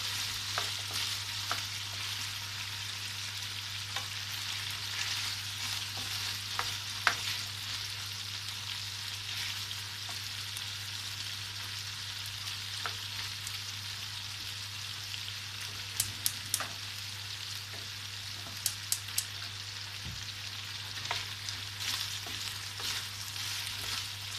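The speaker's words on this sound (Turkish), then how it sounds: "Şöyle bir çevireceğim patatesleri." Potatoes and chicken sizzle steadily in oil in a pan for a Turkish chicken tava kebab, with occasional stirring scrapes and clicks over a constant frying hiss and a low hum, no talking.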